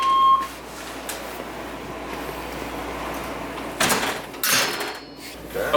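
A door opens or closes nearby in a workshop setting with skoolie bus building materials, heard as a couple of short knocking and sliding bursts over a quiet background with a brief beep near the start.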